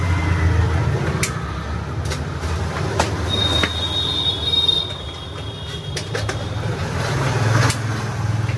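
A polishing machine runs steadily against an old black bucket, a loud continuous grinding drone with scraping clicks and a brief high-pitched squeal as the pad works the surface.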